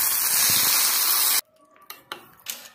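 Hot tadka with curry leaves hits a pan in a home kitchen for chicken biryani, a loud, hissing sizzle for over a second that cuts off abruptly, followed by a few sharp clinks and clatters.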